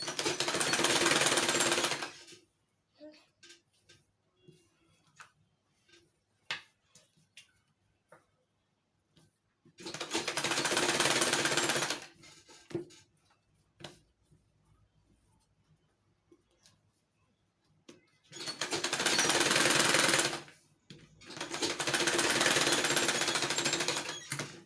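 Loud, close sewing machine stitching the lining of a wrap peplum blouse in four long continuous runs of rapid needle chatter, separated by quiet gaps filled with faint clicks and fabric handling.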